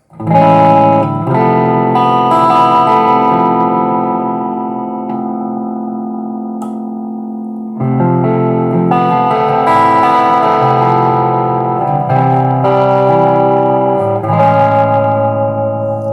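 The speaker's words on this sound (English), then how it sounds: "Guitar definitely sounds like it's like made for clean tones and made for jazz tones." Clean chords on an Epiphone Casino hollow-body electric guitar ring out and sustain with a warm, slightly reverberant amplified tone, two strummed phrases separated by a brief pause.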